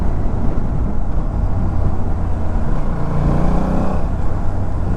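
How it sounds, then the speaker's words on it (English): Evening highway traffic rolls past steadily, a loud continuous rumble of cars and engines with no pauses and no voices. "It's evening time, and on this highway a lot of traffic is coming."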